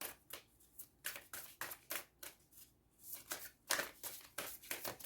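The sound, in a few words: shuffling a deck of synchronicity cards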